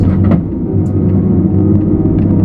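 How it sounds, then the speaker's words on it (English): A Timbco hot saw grinds over a stump in the woods, its heavy engine giving a loud, steady, low rumble that stays continuous throughout. "I'm trying to drive over a stump."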